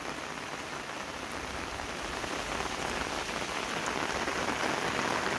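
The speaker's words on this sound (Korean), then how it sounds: "기분 좋게 비가 오고 있습니다." Steady summer monsoon rain pours over rice fields on a rural hillside, a continuous close hiss of drops on paddy water and foliage that swells a little in intensity, heard alone without talk.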